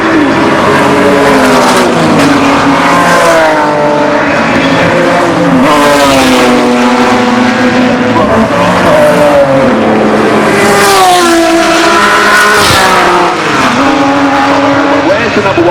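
Vintage racing cars, a Ferrari among them, roar around the Goodwood Revival circuit during the Kinrara Trophy race, with loud continuous engine noise and repeated revving and gear changes, close and sustained, under a commentator's voice.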